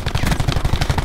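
Rapid automatic gunfire from a video game during a 1v1 match, loud, dense bursts of shots repeating steadily throughout with no pauses.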